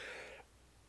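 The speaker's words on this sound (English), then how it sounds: "I'm sorry for coughing on the Christmas tree." A single harsh cough in a room beside a Christmas tree, loud and breathy for under half a second, then cut off to quiet room tone.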